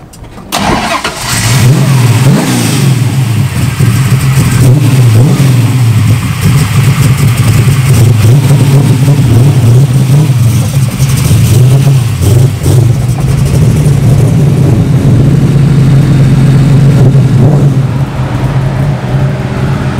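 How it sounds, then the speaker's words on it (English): A Ford Mustang muscle car engine cranks and fires, then settles into a loud, deep burbling idle with repeated revs swelling and falling, heard close up for about twenty seconds. "I'm taking the American muscle car."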